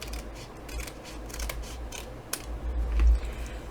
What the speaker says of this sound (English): I'm going to cut off the excess.